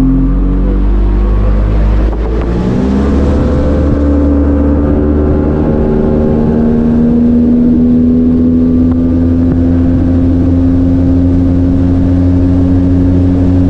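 Bass fishing boat outboard motor starts up and settles into a loud, steady running drone with a strong low hum and rising pitch as it revs, close and continuous.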